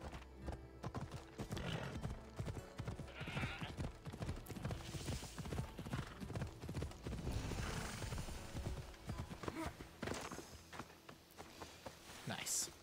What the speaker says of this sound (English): Mine horse. Let's ride.